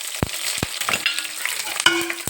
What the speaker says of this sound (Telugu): ఫస్ట్ వేసిన తర్వాత పోపులు కూడా వేసుకోవాలన్నమాట